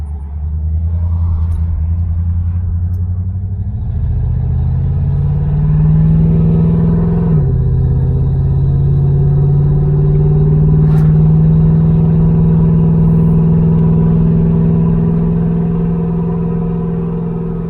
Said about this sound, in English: going for another test drive and check out this throttle linkage and kickdown adjustment